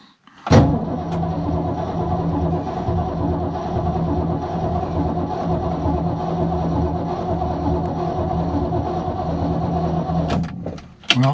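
A 1966 Ford Mustang's 289 V8 catches abruptly and settles into a loud, steady idle close by, then cuts off near the end with a sharp clunk.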